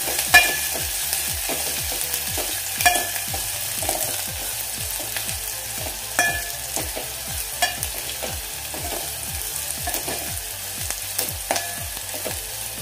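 Broken dry red chillies sputter in hot oil for dal bati, a steady crackling sizzle with sharp pops and regular scraping stirs throughout, close and fairly loud, with no voices.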